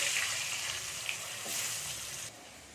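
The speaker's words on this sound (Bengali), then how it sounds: "আলুগুলো একটু ভেজে নেবো" Potatoes fry in a pan with a steady hiss and crackle that dips slightly toward the end, with no talking.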